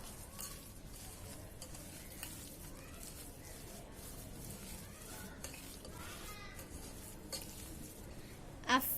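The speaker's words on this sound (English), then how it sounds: "Mix it well for some time. It has to blend." Minced mutton for seekh kabab is mixed in a bowl, giving quiet, continuous wet stirring and squishing with a few light clinks, all faint and without talk.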